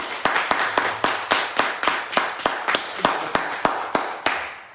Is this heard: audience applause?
yes